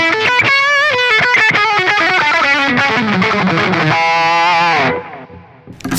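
A Zoom G5 multi-effects unit on its Squeak distortion setting drives an electric guitar through a run of crisp, crunchy picked notes and chords, loud and steady for about five seconds before dying away to near silence.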